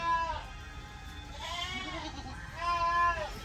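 A goat on a backyard farm in San Pascual, Batangas bleats in two or three wavering, nasal calls with short gaps between them, close and fairly loud over a faint steady background hum.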